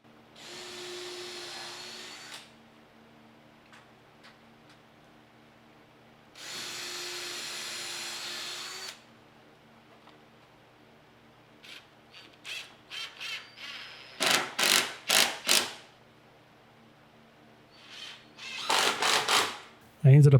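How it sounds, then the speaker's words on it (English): Power drill boring pilot holes for 2.5-inch outdoor deck screws while building a porch swing, heard as two sustained whirring bursts followed by several short, choppy drilling pulses, fairly close and loud. "I'm going ahead and putting some pilot holes before I drill them in."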